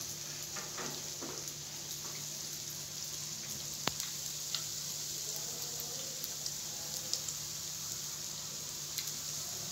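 Vadas fry in hot oil until dark brown, a soft, constant sizzle with scattered small pops and crackles, quiet and close, with no talk over it.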